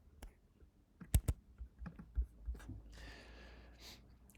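Close computer keyboard typing while copying and pasting code, a quick cluster of crisp key clicks and taps with a few louder strikes, then a soft breathy rustle at the end.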